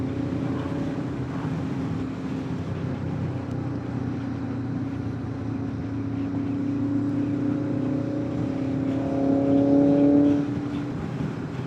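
A classic car engine idles steadily at a vintage car show, a low continuous rumble with harmonic tones that swell briefly near the end as it revs.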